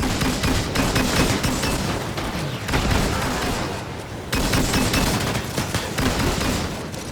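Sustained heavy gunfire in the video game Disintegration, dense automatic bursts and blasts crackling loudly and continuously, with brief lulls, no voices.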